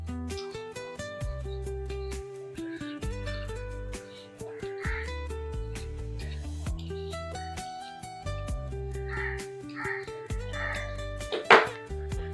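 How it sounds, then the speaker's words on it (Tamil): A knife cuts peeled chayote (chow chow) into pieces for a kootu, giving a run of crisp, evenly spaced chops on a board beneath steady background music, with no talking. "நம்ம இந்த சவ்வில் தோலை நம்மளாம் எடுத்துட்டு இந்த சைஸுக்கு நம்ம கட் பண்ணிக்கலாம்."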